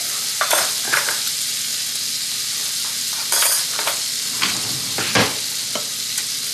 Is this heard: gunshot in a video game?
no